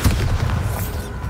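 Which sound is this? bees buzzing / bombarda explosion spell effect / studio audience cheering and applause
bombarda explosion spell effect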